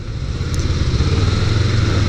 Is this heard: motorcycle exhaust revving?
yes